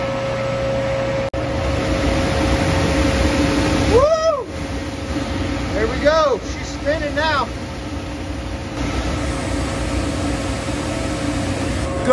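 A Lochinvar commercial boiler burner fires up after repair, producing a loud steady roar and hum with a few short sweeping, whistling tones as ignition begins, and a voice is briefly heard.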